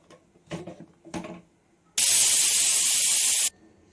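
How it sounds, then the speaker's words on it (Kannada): A pressure cooker whistle lets off steam in one loud, steady hiss lasting about a second and a half while tomato bath cooks. It follows a couple of soft knocks. "ಕುಕ್ಕರ್ ಮುಚ್ಚಿದ್ದೀನಿ. ಒಂದು 2 ವಿಸಿಲ್ ಬಂದರೆ ಸಾಕು."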